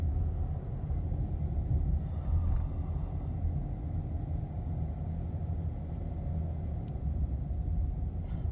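A car climbs a hill on Shades Of Death Road at night, a steady low engine and road rumble droning continuously from inside the cabin, with no speech.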